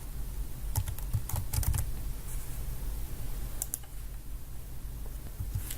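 Steady typing on a computer keyboard while renaming a query in an Excel spreadsheet, with quick clusters of key clicks over a low background hum and no talk.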